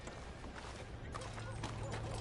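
Horse hooves clip-clop in the video game Red Dead Redemption 2 on PS5, a steady low patter running beneath talk and a constant engine-like hum throughout.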